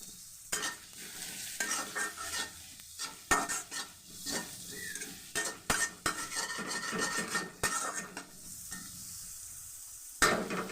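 Onions and chilies fry in a pan for pasta chow mein, with a steady sizzle under repeated scraping and clinking as a utensil stirs against the pan. The sound is close and there is no talk.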